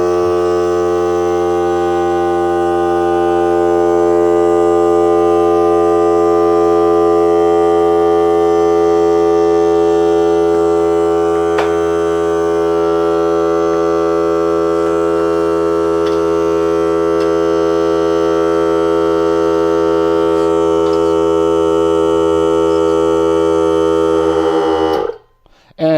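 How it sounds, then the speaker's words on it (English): A Ryobi 18V cordless air compressor running continuously as it builds pressure, a loud, steady motor drone with strong tonal hum, cutting off abruptly at the end. "So I'll explain this as it's charging up so that you get a better idea of what's going on with this compressor."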